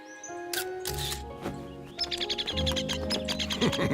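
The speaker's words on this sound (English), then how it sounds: "Are the baby birds okay, Boulder?" Tiny high chirps and peeps from baby birds, quick and repeated, mixed with soft clicks and rustling close by.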